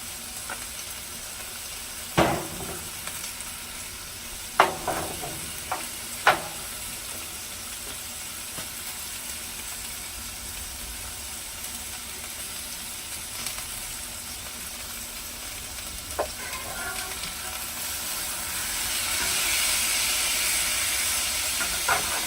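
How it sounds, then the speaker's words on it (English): Mushrooms splashed with Worcester sauce sizzle steadily on a Blackstone griddle, a continuous close hiss with a few sharp clicks and taps of a utensil early on, swelling slightly louder toward the end. "I'll give these mushrooms a hit of Worcester sauce."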